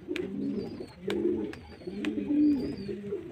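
A pigeon being held in the hand coos softly and close, repeating about three throaty, rolling coos in a steady rhythm.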